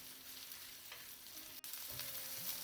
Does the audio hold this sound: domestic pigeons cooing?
no